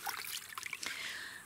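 Harvested garlic rinsed in a bucket of water gives soft, faint trickling and sloshing splashes in a short, irregular burst.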